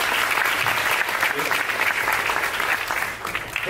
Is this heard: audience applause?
yes